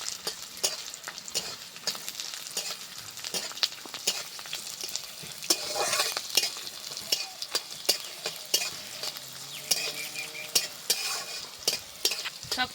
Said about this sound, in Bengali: এবার সব কিছুকে ভালো করে আগে ভেজে নেব।